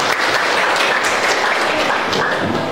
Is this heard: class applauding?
yes